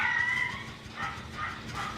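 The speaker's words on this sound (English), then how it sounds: "my dogs are barking again" Dogs bark close by, with a high, harsh yelp at the start followed by further bursts of barking, loud and with no speech over them.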